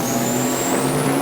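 A hot rod semi truck roars at a 2007 truck pull in Hamburg, New York, its engine holding a loud, steady drone with a high whine running across it and no voices.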